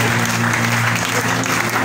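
A church congregation applauds and cheers during worship, a loud continuous wall of clapping and crowd noise over a steady low musical hum.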